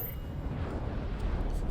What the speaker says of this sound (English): There goes another explosion.